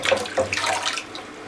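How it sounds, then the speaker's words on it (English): Water runs from a tap into a sink where vacuum cleaner parts are being washed with soap, a fairly faint splashing and trickling flow that eases off toward the end. "I'm going to put some soap and water."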